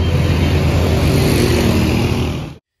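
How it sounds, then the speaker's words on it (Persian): Busy city street traffic with cars and motorcycles passes close by, a loud continuous engine roar and rumble that holds steady for over two seconds before cutting off abruptly. "اینجا صدای موتور، صدای ماشین"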